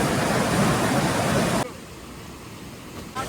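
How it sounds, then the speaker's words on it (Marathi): A flooded Chillar river near Pimproli village in Karjat taluka, swollen after a cloudburst and the breach of the Ambivli weir, roars as a dense, loud rush of water that drops abruptly to a quieter wash partway through. "ही चिल्लार नदी आणि चिल्लार नदी खूप पाणी आहे आणि तुडुंब भरलेले आहे"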